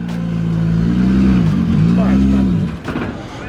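A car at a drift practice day runs with a steady, droning engine note that rises and falls slightly before cutting off, heard close and loud with people talking over it.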